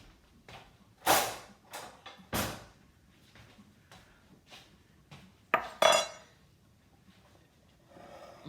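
A spoon tosses muffuletta pasta salad in a bowl in a home kitchen, making scattered clinks, scrapes and soft wet stirring, with several sharper clatters against the bowl among quieter taps.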